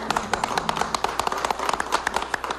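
Applause from a studio audience on a nostalgia television program, steady close clapping with distinct individual claps in a quick even rhythm throughout.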